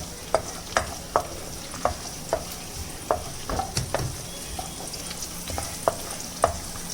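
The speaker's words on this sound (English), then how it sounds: "And then saute it for a minute." Chopped ginger and garlic sautéing in a pan for sweet corn chicken soup: a steady close sizzle broken by a dozen sharp spoon scrapes and taps at an uneven rhythm, with no talking.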